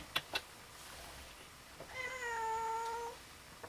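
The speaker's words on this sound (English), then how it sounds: "The cat is right there, so I have to get it out." A cat meows once, a clear drawn-out call in the middle of the moment, preceded by a couple of soft knocks in a quiet room.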